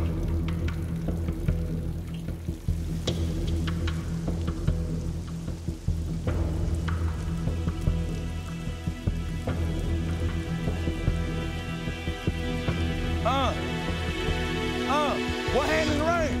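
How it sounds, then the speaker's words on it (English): Rain falls steadily at an outdoor football practice, a constant broadband patter filling the whole stretch, with players and coaches talking and calling out over it and a few whistle-like tones near the end. "Oh, it's definitely starting to rain."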